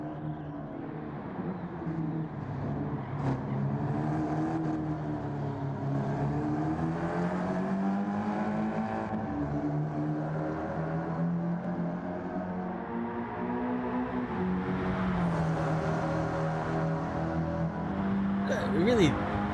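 Four-cylinder car engine in Forza Horizon 5 droning with a deep, bassy rumble that rises and falls steadily throughout, with a voice talking over it.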